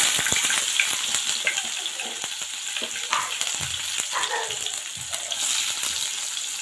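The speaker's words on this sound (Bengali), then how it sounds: "পেঁয়াজটা ভেজে নিব" Onions frying in hot oil for a prawn kofta curry, a steady loud sizzle and crackle running throughout with scattered sharp pops and spatters, close by and with no talking.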